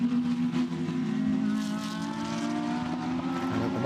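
Ferrari and Lamborghini GT race cars at speed on the Barcelona circuit, a buzzing engine drone that rises and falls in pitch as the cars run close together, moderately distant.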